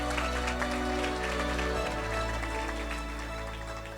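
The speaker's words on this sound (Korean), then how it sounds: "큰 박수로 축복하겠습니다" A crowd claps at an autumn-semester closing service and graduation ceremony. Sustained, dense applause fills the hall, steady and fairly loud over the full stretch, with a faint voice beneath it.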